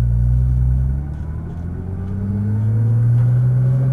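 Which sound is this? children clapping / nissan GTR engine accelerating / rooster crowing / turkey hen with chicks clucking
nissan GTR engine accelerating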